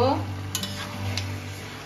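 Vegetable pachan is stirred in a pan after resting covered, a faint low sizzle with a couple of light scraping clicks of the spatula, no talk.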